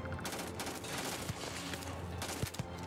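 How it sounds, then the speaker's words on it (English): Gunfire from a pistol in the video game Starfield, loud and dense with a few sharp shots over a constant roar of game sound. "I did talk it out, and then I shot him for his loot."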